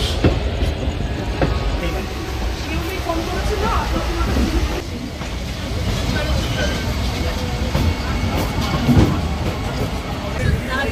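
The 18011 Chakradharpur Express pulls out of Howrah station toward Purulia, with a steady rumble of wheels, faint clicks and occasional clanks from inside the moving train.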